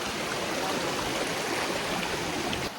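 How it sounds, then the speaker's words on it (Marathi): A small stream rushes steadily over rocks near Kudlu waterfall in Karnataka, an even broadband wash of flowing water, close and unbroken. "हा झरा खाली येतो"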